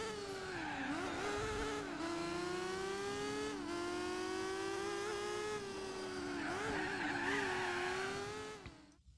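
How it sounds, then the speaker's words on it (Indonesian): Racing cars in a PS2 racing game hold a steady, droning engine whine that rises and dips with shifts, with brief tire squeals, loud and continuous before fading at the end. "Kalian dapat bebas mengikuti lomba balap mobil dengan menggunakan kendaraan seperti BMW, Toyota, Subaru, Mitsubishi, Honda"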